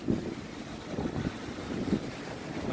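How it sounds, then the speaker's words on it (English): Low, steady rumble of wind buffeting outdoors, with gusty swells and a constant blustery roar, no voices. "Looks like it's getting windy out there."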